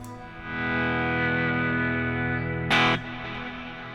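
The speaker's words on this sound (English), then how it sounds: "You can hear it has a dispersion, and then with delay." Guitar played through a worship pedalboard with dispersion and long delay effects, sustained chord ringing with a shimmering tail, a brighter strummed burst near the end, no talking.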